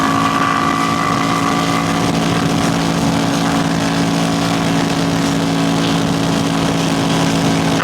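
A tuned Ducati Panigale V4S being ridden, its steady engine drone and whine heavy with wind rush at the microphone, loud and continuous with no breaks.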